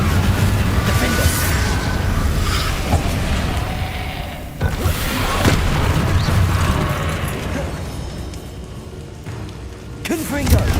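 Confringo fire spells bursting in Hogwarts Legacy during a fight against Inferi, dense rumbling explosions and crackling effects layered over game music, loud and continuous, with a player shouting between casts.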